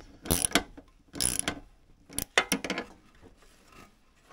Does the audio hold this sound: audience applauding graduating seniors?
no